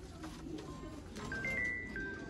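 Breeder pigeons of the Sialkoti type cooing softly in a quiet setting, low faint coos with a few thin high tones passing over.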